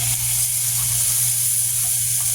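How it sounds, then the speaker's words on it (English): Shrimp fry in a frying pan with a steady, loud hiss and sizzle that holds evenly from start to finish. "So I'm going to put them in the frying pan."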